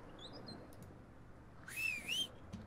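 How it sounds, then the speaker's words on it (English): A short rising-and-falling whistle, the call used to summon a horse in the video game Ylands, sounds once near the end over a faint, quiet background with a few soft chirpy tones earlier. "We can actually go ahead, whistle, and summon my horse."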